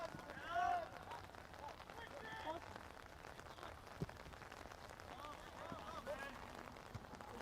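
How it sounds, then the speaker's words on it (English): Heavy rain pours steadily onto an outdoor soccer pitch during a match, a continuous broad hiss with faint scattered taps and thuds beneath it, fairly distant and low in level. "Rain continues to thunder down."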